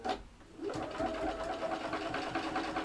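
A sewing machine stitches fabric with a steady, close mechanical whirr and rapid needle clatter that continues without pause.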